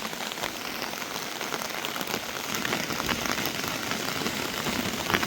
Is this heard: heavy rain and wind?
yes